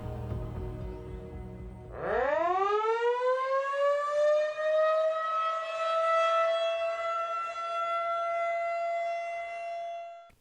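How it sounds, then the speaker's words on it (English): An outdoor tornado siren winds up from a low growl into a loud, sustained wail that holds steady and then fades slightly at the end. "Most counties have outdoor tornado sirens. Hearing their loud wail ensures everyone outside they can get the warning."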